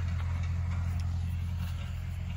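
A tractor idles steadily in a garden while covering seeds, its low engine drone continuous and close throughout.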